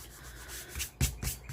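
A fingertip rubs dried glue off the spine of a handmade junk journal, making short, close, dry scuffing strokes. Faint friction gives way to a few louder rubs near the end.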